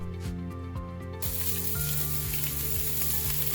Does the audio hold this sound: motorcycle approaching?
no